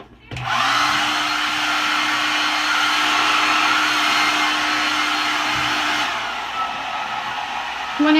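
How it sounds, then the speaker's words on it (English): A handheld blow dryer runs at a steady, loud whooshing roar for several seconds while drying glued-in hair tracks, then switches off and fades to quiet room noise. "I need to get my blow dryer"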